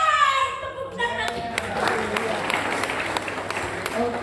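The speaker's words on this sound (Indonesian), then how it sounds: "Tepuk tangan." A congregation at a GSJA Mangga Dua church worship service breaks into applause just after a voice is heard. The scattered, moderately loud claps carry on for several seconds.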